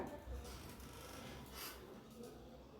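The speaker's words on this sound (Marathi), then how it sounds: "आपल्याला ही कैरी एकदम छान किसून घ्यायची बघा" Raw green mango is grated by hand, giving a soft, continuous scraping rasp that is faint and close, with light background noise.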